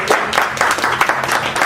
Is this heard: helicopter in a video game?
no